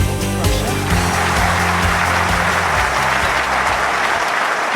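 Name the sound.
crowd applauding in London 2012 video game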